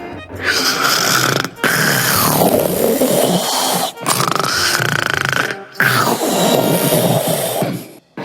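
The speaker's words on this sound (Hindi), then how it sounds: "वो अपने पेड़ पर सो गया और खर्राटे भरने लगा।" A cartoon character, a ghost asleep in his tree, snores loudly in long rasping inhales and exhales, with three or four drawn-out snores separated by brief pauses, close and alone with no talk.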